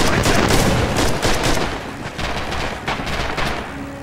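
Machine gun fire in the Red Orchestra 2 shooter sounds as rapid, dense bursts of gunfire mixed with more distant shots, loud and sustained through the whole stretch.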